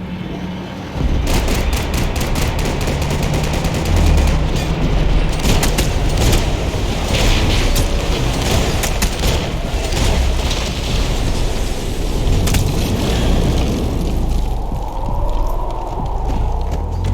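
Sustained gunfire from the video game Max Payne 3, a dense, loud barrage of rapid shots and booming impacts running nearly continuously, with rattling bursts and no clear talk.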